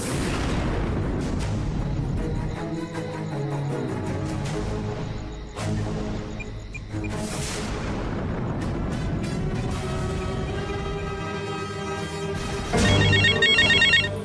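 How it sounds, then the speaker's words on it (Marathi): A telephone rings in a Marathi television serial, with repeated electronic tones heard over dramatic background music and booming effects. There is no speech over the ringing. "कोणाचा फोन आहे रे?"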